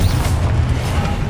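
A Confringo spell blast in Hogwarts Legacy on PS5, a loud, dense rumbling boom that fills the whole brief moment without a clear break.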